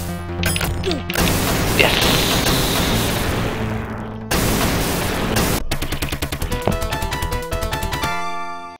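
Rapid arcade gunfire and crashing impacts from the Shinobi video game, loud bursts separated by short gaps, ending in a run of quick chiming electronic tones.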